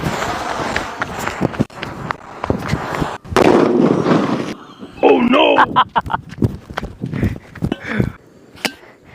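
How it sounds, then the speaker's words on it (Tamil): Several sharp firecracker bangs crack out, one a loud metallic blast with ringing clatter from a bijili firecracker exploding inside a metal pot, followed by scattered pops and brief excited voices. "இப்போ சொம்புக்குள்ளார வைக்கிறோம், என்ன செய்யுது அப்படின்றத மட்டும் பாருங்க."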